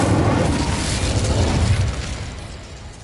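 A fire spell cast in Hogwarts Legacy, a loud whooshing, booming burst of flame that roars for about two seconds and then fades away, with no talk over it.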